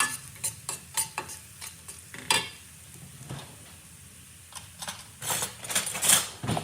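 A spoon scrapes and clinks through a Punjabi masala mixture of coriander-cumin powder and garam masala in a pan on a gas stove, with soft intermittent stirring strokes and faint sizzling, close and quiet.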